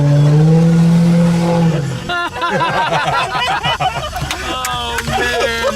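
A Mercedes V12 with an aftermarket exhaust revs loudly on a city street, a rough, rising engine roar that follows a sustained tone and repeats in bursts, with people talking nearby.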